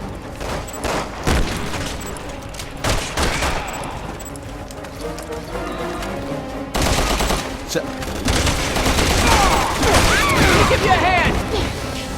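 Rapid bursts of automatic gunfire and booms from the video game Resident Evil 6, loud and dense, firing in clusters with heavier sustained volleys in the latter half, with a voice speaking in between.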